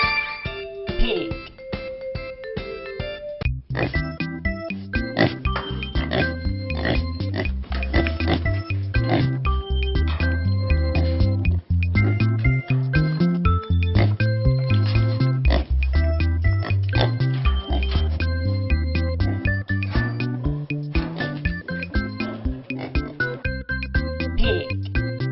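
Pig oinking in a children's farm-animals learning song, grunts blended into a loud, continuous musical track with a bouncing beat.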